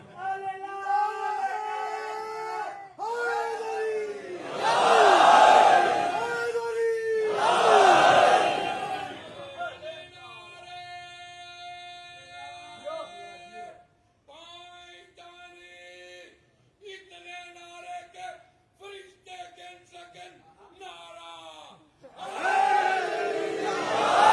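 Congregation at a Ramadan religious gathering in Karachi chanting slogans together, loud massed bursts of call-and-response shouting separated by a stretch of a single amplified voice leading the chant.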